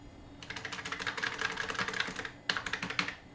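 Rapid keystrokes clatter on a computer keyboard in a steady, close burst, pause briefly, then resume with a few sharper taps.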